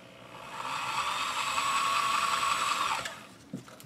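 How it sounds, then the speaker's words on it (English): A power drill fitted with a 3/16 drill bit boring a hole in a Yugo AK-47 M70 quad rail mount, a steady close whine running for about three seconds before spinning down, followed by a few small clicks and handling noises. "now I'm ready to drill the front hole."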